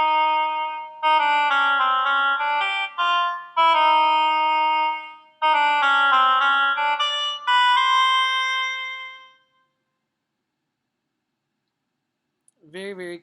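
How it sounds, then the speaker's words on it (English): An oboe plays the duck theme from Peter and the Wolf, a nasal, reedy melody in short phrases with brief pauses, followed by silence and a faint snippet at the end. "The next one is the theme of the duck."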